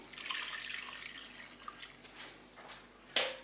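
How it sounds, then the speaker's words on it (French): Water poured into a Cookeo multicooker pot, a soft splashing trickle that tapers off, then a short clink near the end. "Et je vais rajouter 200 ml d'eau."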